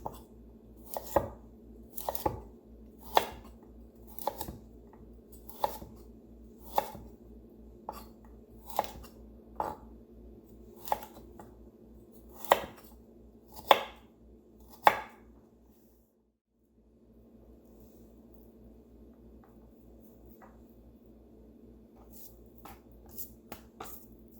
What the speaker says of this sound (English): I'm going to go ahead and cut them at an angle into medium-sized pieces